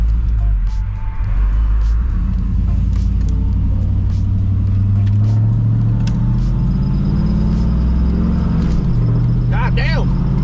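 An OBS-era truck cruising at the speed limit on the road, its engine rumbling low and steady with constant road noise, a faint high squeal near the end, and a voice talking over the drive.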